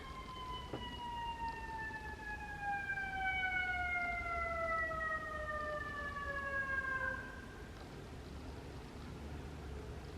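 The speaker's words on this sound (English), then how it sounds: "the ambulance in the background" A wailing siren sweeps steadily downward in pitch over several seconds, moderately distant, over a constant background hum, then fades out.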